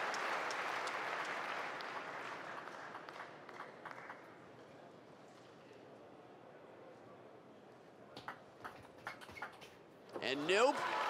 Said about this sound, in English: The crowd claps on Ishikawa to see the match continue.